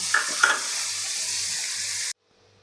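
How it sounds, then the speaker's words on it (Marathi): Finely chopped onion sautéing in oil gives a steady, close sizzle for about two seconds, with a couple of faint utensil taps near the start, then the frying cuts off abruptly into near silence. "आता यामध्येच घालायचा आहे आपल्याला एक मोठा कांदा बारीक कट केलेला हलकासा सोनेरी रंगावर आपल्याला परतवून घ्यायचा आहे"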